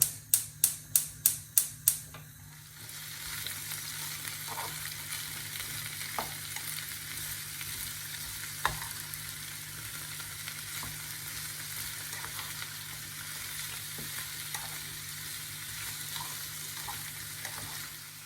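Bell peppers grill in a pan for turkey skewers with vegetables. A few sharp taps open the sound, then a steady, moderate sizzle follows with occasional clicks of stirring, close by and without speech.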